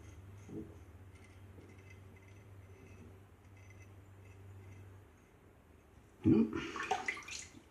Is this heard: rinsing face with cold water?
yes